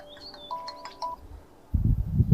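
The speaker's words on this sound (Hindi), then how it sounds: "फोन बज रहा है" A short electronic phone ringtone plays a few bright, chirpy tones in a quick pattern, then gives way to a low rumbling noise.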